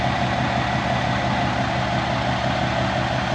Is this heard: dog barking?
no